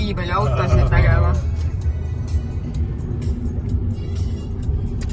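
Car traffic rumbles steadily along a street in Marbella on the Costa del Sol, with passing vehicles forming a continuous close engine drone while people talk over it.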